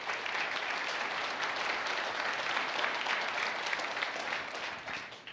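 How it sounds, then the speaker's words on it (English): Keynote audience applauding at a Lenovo Transform event, dense sustained clapping from a large crowd that stays loud and even before tapering slightly at the end. "So once again, big round of applause."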